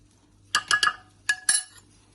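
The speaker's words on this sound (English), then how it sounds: "So now we're going to mix our sauce for our wok-fried greens" Soy sauce and mushroom stir-fry sauce being mixed in a bowl for vegan wok-fried greens: a few quick clinks of a utensil against the bowl in two short bursts, close and fairly quiet, with no talking.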